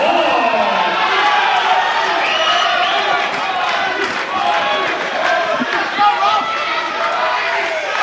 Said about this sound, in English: The crowd chants of Robbie will usher us into the fourth round of action.